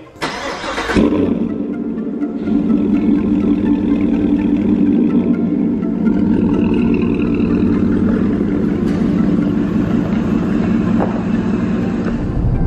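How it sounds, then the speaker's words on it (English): A 2017 GMC Yukon Denali with a cold air intake rumbles loudly and steadily as it drives, with a deep exhaust drone that builds after a brief start and holds throughout. "it is a little hard to hear with our loud exhaust"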